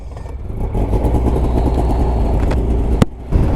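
A 2-stroke snowmobile engine runs close by with a buzzy, steady drone and small rises in revs, ending in a sharp knock and a brief dip before the engine note returns.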